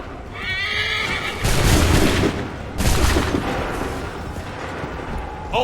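Two loud, broad musket volleys fired by soldiers in Assassin's Creed III crash out a second or so apart, each trailing into a rumbling decay. A horse whinnies just before the first volley.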